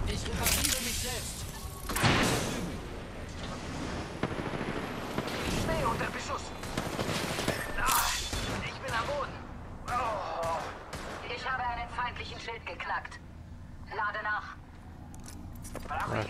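Bursts of gunfire and impacts crackle through an Apex Legends firefight at a bunker, loud and dense with repeated shots and thuds, while voices call out over the shooting.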